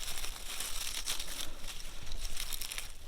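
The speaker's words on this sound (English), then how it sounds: "I'm just going to gently pick up these leaves" Dry leaves by a creek crinkle and rustle as they are gently lifted by hand, with irregular crisp bursts of crackling close to the listener and no speech.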